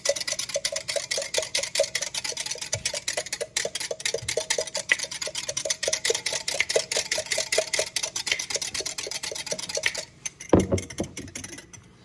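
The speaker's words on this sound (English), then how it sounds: "Give it a good whisk." A mixture is whisked briskly in a bowl, rapid rhythmic ticking strokes repeating for about ten seconds before stopping with a clunk.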